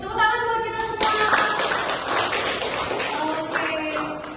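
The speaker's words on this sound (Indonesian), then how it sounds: "Tepuk tangan buat kita semua." Applause in a classroom, a dense patter of clapping hands from a group of students lasting several seconds at steady loudness, with some voices mixed in.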